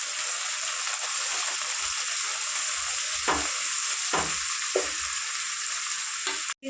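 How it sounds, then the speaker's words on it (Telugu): Fenugreek leaves fry in a pan over onions already browned, giving a steady, bright hiss that continues throughout, broken by a few close clacks of a stirring spoon. "మెంతి కూర కూడా కొంచెం ఫ్రై చేసుకుందాం."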